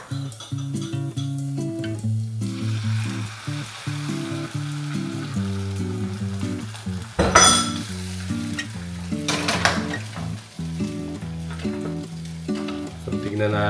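Scrambled egg with slightly burnt onions fries in a pan with a steady close sizzle, with occasional stirring scrapes and clinks over the crackle.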